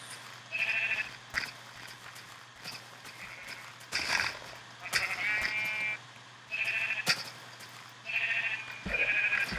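Minecraft sheep bleat in short, repeated calls, several separate bleats spaced across the stretch with quiet gaps between, a steady low hum underneath and no talking.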